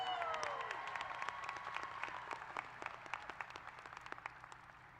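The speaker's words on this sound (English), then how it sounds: "Now we can applaud" Audience applause fills a graduation ceremony hall, a steady wash of many hands clapping at moderate distance, with a few sharper individual claps standing out and a faint tone fading early on.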